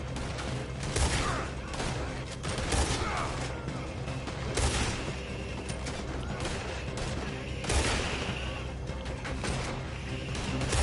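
Ongoing gunfire in Red Dead Redemption 2: a dense, steady firefight with repeated sharp shot bursts every couple of seconds over a continuous noisy battle background.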